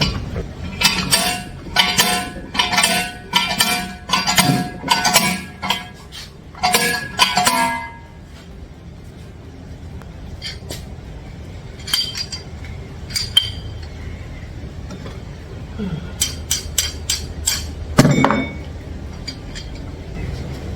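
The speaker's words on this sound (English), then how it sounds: "So we're going to take the slide hammer." Rapid bursts of sharp metallic clanking from a slide hammer pulling a bearing race from a 1969 Chevrolet Camaro 12-bolt rear axle, repeated hits in quick succession, then a pause and another cluster of impacts.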